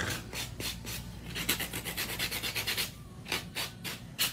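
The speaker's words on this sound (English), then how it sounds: "Always buff underneath where I was using my drill bit." A nail buffer rubbing underneath a nail where a drill bit was used during an acrylic powder nail set, giving a series of short, close, steady raspy strokes in quick rhythmic bursts with brief pauses between groups.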